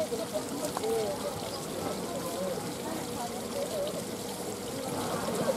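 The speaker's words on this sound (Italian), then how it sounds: "quindi anche qui una piccola cascata" Small decorative waterfall among aquatic plants at a flower show, a soft continuous pouring trickle with faint background chatter from people nearby.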